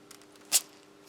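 A sealed pack of Nut Walker roasted and salted peanuts from a Norwegian Army Arctic field ration releases a single short, sharp hiss of air, close and brief amid quiet.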